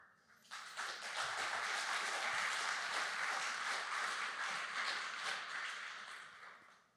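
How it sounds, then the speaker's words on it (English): Sustained applause from a conference audience at a Bitcoin developer talk, dense steady clapping from many hands swelling quickly and holding for several seconds before tapering, with no speech over it. "I did not account for the clapping"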